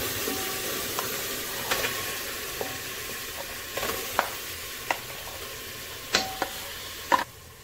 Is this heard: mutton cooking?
yes